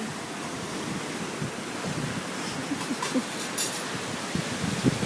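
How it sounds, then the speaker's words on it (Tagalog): Heavy ocean surf at Pagudpud beach, Ilocos, rolls and crashes continuously nearby, a broad roaring wash of water mixed with buffeting wind across the microphone. "Lakas ng alon."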